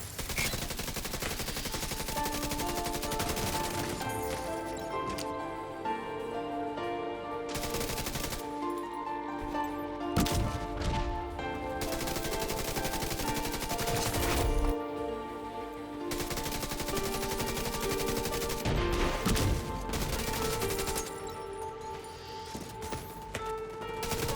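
Heavy hand cannon gunfire rattles almost nonstop in The Division 2, with dense, loud bursts of shots and booming impacts running through the whole stretch without any speech.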